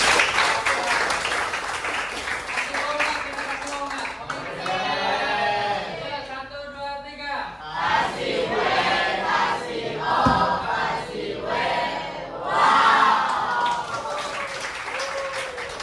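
A classroom full of students claps and cheers loudly, with shouts and chatter rising and falling across the clip.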